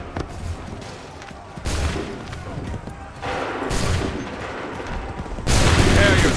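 Musket volleys ring out in Assassin's Creed III, with rolling bursts of gunfire that swell in waves and end in a loud, dense final salvo, while shouting voices mix in among the shots.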